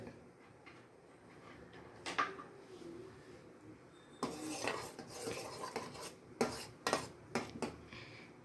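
A spoon stirs boiling masala tea in a metal pot, making faint clinks early on and then a louder run of scraping and sharp metallic knocks against the rim, with quiet pauses between strokes.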